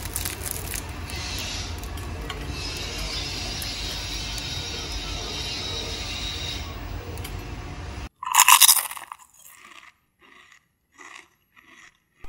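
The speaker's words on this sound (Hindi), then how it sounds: "अभी मैं आपको इसकी आवाज़ सुनवाती हूँ कि कितनी ज़्यादा कुरकुरी बनती है।" Crispy fried thread chicken gives one loud, sharp crunch followed by a few quieter bites, after a long, steady hissing background.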